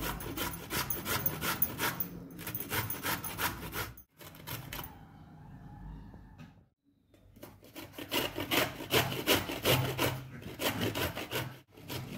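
Beetroot and raw green mango being grated by hand, rhythmic rasping strokes repeating steadily, close and fairly loud, with a couple of brief pauses between bursts.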